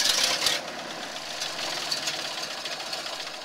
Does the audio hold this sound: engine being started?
yes